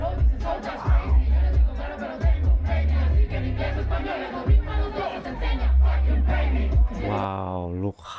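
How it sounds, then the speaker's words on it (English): A live crowd at Flow Fest 2021 singing along to a rap song, a loud massed chant of voices over heavy bass. "How the crowds are singing along with her."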